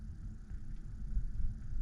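Mazda 6 2.5 turbo cruising on a highway with the windows down, a steady low rumble of engine, road and wind noise from inside the cabin, with no talking.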